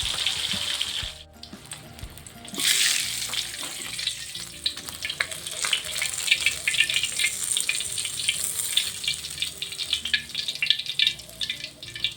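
Three fish sizzle and crackle loudly frying in hot oil, a brief quieter moment before the frying surges back, spitting and popping steadily throughout.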